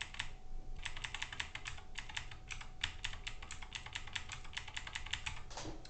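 Computer keyboard keys pressed in a rapid, steady run of close, crisp clicks while editing text in Vim, quiet and alone with no talk.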